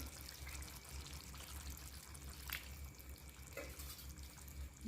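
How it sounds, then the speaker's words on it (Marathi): A thin stream of water pours and trickles into a pot of pumpkin and chickpea sabzi, steady and quiet, with a soft clink or two. "थोडं पाणी आपण किंचित टाकू"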